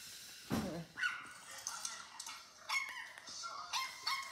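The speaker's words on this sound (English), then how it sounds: "I hear a puppy in there." Small, thin puppy barks and yips from a phone come in scattered bursts, tinny and somewhat faint, with short quiet gaps between them, heard by a Miniature Schnauzer.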